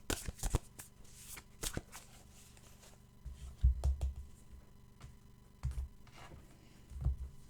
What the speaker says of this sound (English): Okay, we'll get an animal card.